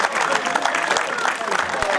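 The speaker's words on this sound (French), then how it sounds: "Et on va l'applaudir comme il se doit." A crowd applauds a podium winner at a hill climb prize ceremony in Turckheim-Trois Epis, with dense, steady clapping throughout and a voice over a loudspeaker talking on top.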